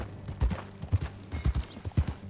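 Rhythmic hoof clip-clops of a walking horse in Red Dead Redemption 2, evenly paced and fairly close, repeating steadily over a light background.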